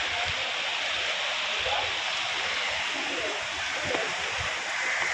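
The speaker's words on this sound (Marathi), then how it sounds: "लय जोरात पाऊस येते बघा." Heavy rain pours down in a dense, continuous roar, loud and close, with a faint voice briefly underneath.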